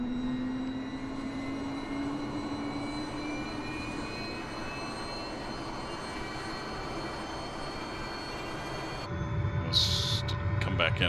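SA 315B Lama helicopter engine starting up in a flight simulation game, a steady whine with rising tones building over several seconds, then a sharp change to a louder, rougher roar near the end, with a brief spoken phrase.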